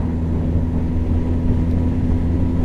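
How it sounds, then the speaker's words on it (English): An inline-four motorbike engine idles with a steady, smooth low hum of induction and exhaust, with constant even loudness and no voices. "this bike does have a good, very, very nice induction note, but the exhaust, it could be a bit fruitier"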